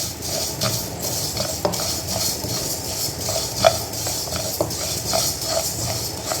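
Ingredients for mango kachumber pickle being stir-fried in a pan: a continuous hiss of frying with regular metal clinks and scrapes of a spoon against the pan, close by and with no speech.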